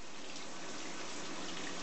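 Water pours steadily from a newly installed shower, a continuous broadband hiss without pauses, close and fairly even in level, with no voices over it.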